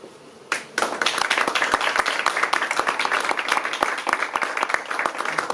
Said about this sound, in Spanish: espero que hayas podido escuchar los aplausos